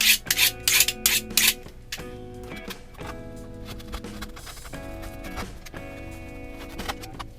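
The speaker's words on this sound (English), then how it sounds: "just bring back your stone sharpener, sharpen it up a bit more" A blade is rubbed against a sharpening stone in several quick, loud rasping strokes, followed by quieter scraping and light clinking from close by.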